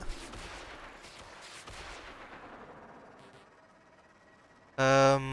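Gunfire in a video game raid, with shots aimed at flying meatball enemies, as loud bursts that fade over several seconds, then a sharp bright tonal blast near the end.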